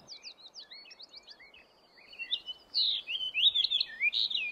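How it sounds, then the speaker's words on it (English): A fox sparrow sings in Arctic tundra, a clear series of sweet whistled and warbled notes that starts faint and grows louder and richer near the end, alone over quiet wind. "You can see why fox sparrows move up here."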